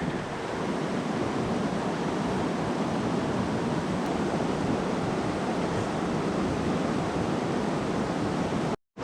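A waterfall on the Green River rushes in a loud, constant broadband roar that stays steady and close the whole time, with no voices over it, before cutting off abruptly at the end.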